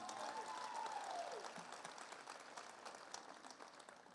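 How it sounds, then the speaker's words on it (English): An audience at the Indiana State University SAMYS 2022 athletics awards event applauding, a steady wash of clapping that begins full and gradually thins, heard from a distance under faint room noise. "Can we give them a round of applause, please?"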